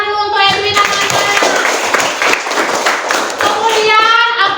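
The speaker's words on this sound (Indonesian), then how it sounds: "Kasih tepuk tangan dulu untuk Edwin anak-anak." Children in a classroom clap their hands together for a classmate, a brief, busy patter of small hands mixed with young voices and chatter throughout.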